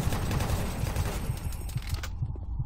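Chain gun from Doom firing a dense, sustained rattling burst at close range, loud and continuous before cutting off abruptly.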